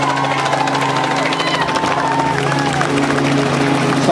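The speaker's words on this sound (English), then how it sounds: "Again, big round of applause." An outdoor crowd claps and cheers steadily for a finisher of the 2010 Steinlager Kaiwi solo paddleboard race, under a constant low helicopter drone, with an announcer talking over it.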